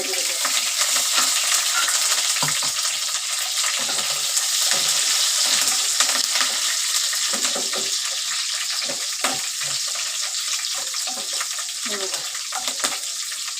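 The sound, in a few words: khichdi ingredients roasting and sizzling in a pan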